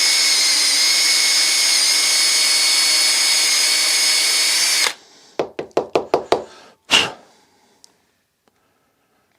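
A bristle brush spun by a drill polishes a golf club head, giving a loud steady whirring grind for several seconds; a quick series of sharp knocks follows after it stops.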